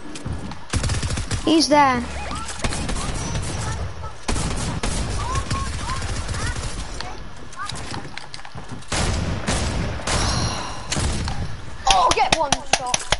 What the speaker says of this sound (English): he has a drum shotgun